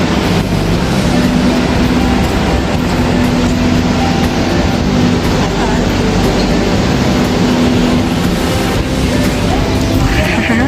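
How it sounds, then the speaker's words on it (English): Train ride through Melbourne's CBD, with a continuous loud rumble of the moving carriage and steady wheel and motor noise filling the whole stretch, with no speech over it. "We're taking the train."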